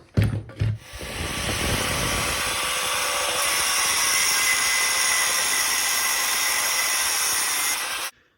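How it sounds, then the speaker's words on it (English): An angle grinder cuts metal steadily for about seven seconds, a harsh, high, continuous whine with a few brief knocks at the start, then stops abruptly. "pull the angle grinder over, and just slice it off"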